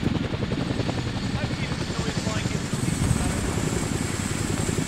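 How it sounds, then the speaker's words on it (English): A Chinook helicopter in the video game Arma 3 thuds overhead with a dense, rapid rotor chop and a loud, steady mechanical roar. The noise stays close and continuous from start to finish. "Chinook's inbound. Chinook's inbound."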